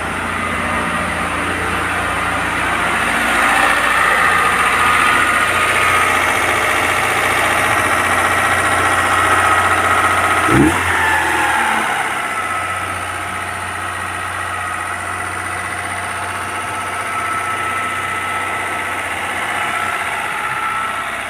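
A car engine idles in a workshop with a low, steady rumble and vibration. A sharp knock or thump comes about halfway through, then the idle settles again.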